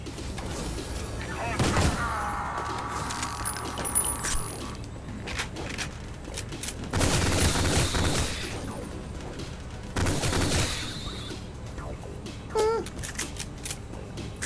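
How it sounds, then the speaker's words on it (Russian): Machine-gun fire in the shooter Ion Fury, coming in loud rapid bursts around the two-, seven- and ten-second marks amid other game effects and clatter, with a voice talking over parts of it. "Теперь я знаю, для чего пулемет нужен."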